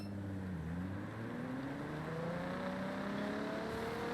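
Car engine in Forza Horizon 6 racing game backing up in reverse, a steady whining drone with rising tonal pitch sweeps, continuous and moderately loud with no voices.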